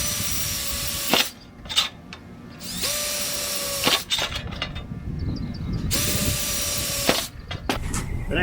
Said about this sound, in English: drill holes in the back of the box